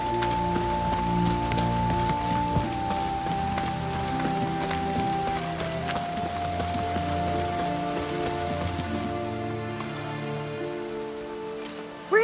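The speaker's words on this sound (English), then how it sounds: "Maybe we needed a spot of rain." Steady rain falls in The Witcher 3, a dense continuous patter that runs throughout with a sustained musical score layered over it and no speech.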